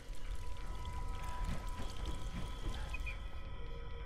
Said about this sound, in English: Looks like we have some sort of haunted water faucet here.